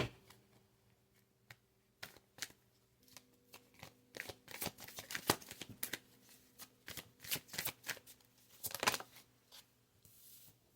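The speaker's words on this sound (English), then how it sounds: "I am going to draw 3 cards from each deck." Tarot cards shuffled and drawn from decks, giving a run of crisp riffling flicks and soft card slaps in bursts, close and fairly quiet, with no talking.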